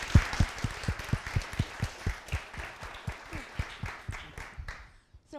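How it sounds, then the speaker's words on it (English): Audience applause for the panelists at the close of an alumni panel session: a crowd claps steadily for about five seconds, with sharp clustered claps that thin out and stop at the end. "Let's just give them one more round of applause,"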